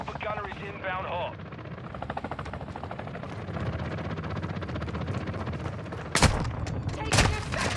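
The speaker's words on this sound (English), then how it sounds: "Our chopper gunner is inbound hot." Call of Duty: Modern Warfare II match with a chopper gunner helicopter overhead: a steady rotor drone fills the scene under bursts of gunfire, ending in two loud, sharp blasts near the close, with a voice heard briefly early on.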